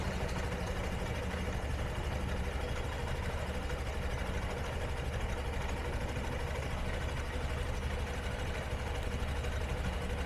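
A repaired Honda Shine motorcycle engine idles with a steady, even low hum and vibration, unbroken and at constant level throughout.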